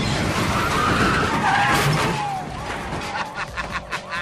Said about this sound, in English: In this movie, Brian and Roman have a lot of high-speed chases